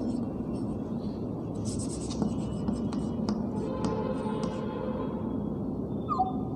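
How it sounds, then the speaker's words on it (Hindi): A pen scratches across a sheet of paper for a geography practical histogram chart, with faint strokes and taps under a steady room hiss, no talking. "इसके ऊपर लिख देंगे"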